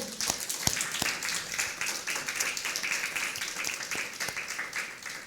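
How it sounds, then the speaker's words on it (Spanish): A church congregation applauds during a sermon, a lively round of steady clapping with a few sharp, distinct claps standing out near the start. "Denle un aplauso al Señor"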